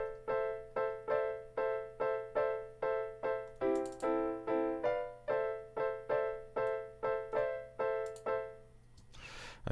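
Sampled Yamaha grand piano played through Logic's EXS24 sampler, repeating the same chord in a steady pulse with a brief change partway through, fairly quiet and dry, no voices.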